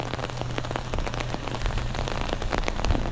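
Steady rain falls outdoors and patters on surfaces close by during a walk, with scattered heavier drops over a continuous wash of rainfall and no talk.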